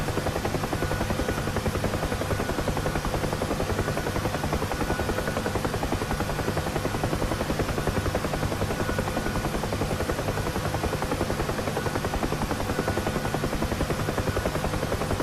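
A UH-1H Huey helicopter in the DCS flight game fills the whole stretch with loud, continuous rotor thumping and engine whine during a landing practice approach, with no voices.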